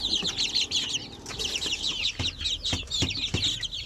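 Basilan and Zampen native chickens, about 45 days old, cluck and chatter steadily in a dense, close flock, with a few sharper low thumps from scuffling or wing movement mixed in.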